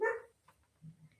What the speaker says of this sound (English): I don't know if you can hear that, but that's the dogs.